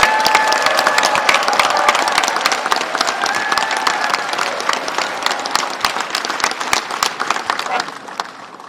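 Loud, sustained applause from a large audience at a Hyundai Motor and Gwangju city investment agreement ceremony, many hands clapping densely and steadily, tapering slightly toward the end.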